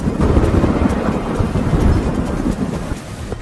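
Heavy rain pours down in a dense, roaring wash with low rumbling of thunder mixed in, loud and continuous across the short stretch, with no voices.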